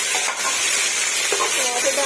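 Tomatoes hit a pan of browned onions frying for matar pulao, setting off a broad, steady sizzle and hiss of hot oil close up, with soft stirring underneath.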